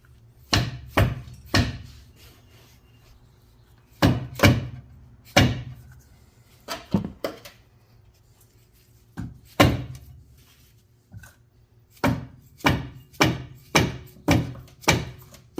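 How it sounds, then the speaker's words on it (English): A hammer strikes a drift pin punch to line up the upper control arm bolt holes on a Silverado Z71 pickup's front suspension, giving loud, close, metallic blows in irregular clusters separated by short pauses. "I just use like a drift pin punch once I get them close to try to find line up where the hole is"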